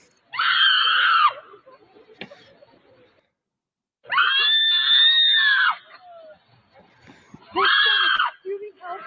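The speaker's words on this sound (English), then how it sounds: "I don't think it's appropriate to have her screaming though" A woman screams in three long, loud, piercing bursts played back from a video, separated by quiet gaps with faint background noise.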